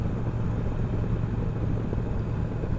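Steady motorcycle engine drone while riding a shaft-drive bike on a country road, a continuous low rumble with wind noise, constant and close throughout.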